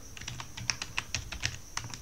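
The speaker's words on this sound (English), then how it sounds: "which is what I'm actually typing in now on the login prompt" Typing on a computer keyboard at a Linux login prompt while installing the UniFi Controller on Ubuntu: rapid, irregular keystrokes with sharp clicks, close and alone, with no talk.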